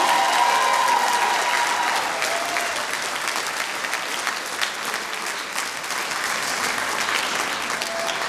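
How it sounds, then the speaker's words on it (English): Sustained applause from an audience at a school faculty recital, steady clapping throughout that eases slightly partway, then swells again. "can you give a round of applause for our tech kids who are helping as well?"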